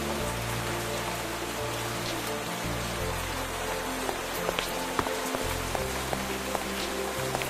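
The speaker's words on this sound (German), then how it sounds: "wenn es so regnet und so dunkel ist" Rain falls steadily in the video game Minecraft, a soft, even patter of drops with a few slightly louder ticks, heard alone with no talking.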